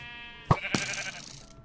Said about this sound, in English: So there's probably lots of sheep in this jungle.